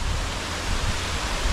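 Heavy rain pours down outdoors in a dense, even roar of broadband noise, close and loud with a slight low rumble, and no voices.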